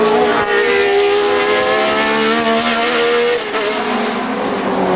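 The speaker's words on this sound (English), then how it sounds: "Denny Hulme through Druids, the slowest corner on the circuit" A 1970 Formula 1 race car at the British Grand Prix takes Druids, the slowest corner on the circuit, its engine a loud, sustained high-pitched howl with shifting tone, heard close and alone.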